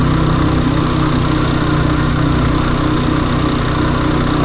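A vehicle engine labors up a steep mountain road in low gear, a loud, close, constant drone with a steady low hum and no letup.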